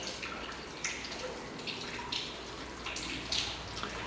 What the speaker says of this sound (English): See if you can hear the water.